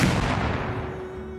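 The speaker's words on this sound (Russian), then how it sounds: "Ох, вот это взрыв" A loud explosion during a raid in the video game Rust hits at once, then rolls off into a fading rumble.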